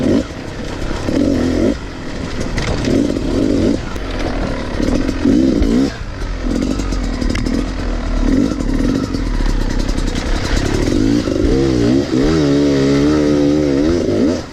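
A Beta 300 dirt bike engine roars and revs steadily while being ridden, loud and close, with a deep, throaty pull, rising and falling as the rider works through the throttle and gears.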